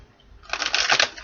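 Tarot cards shuffled by hand in a single quick riffle, a crisp fluttering rattle that starts after a brief quiet moment, close and clear, with no one speaking.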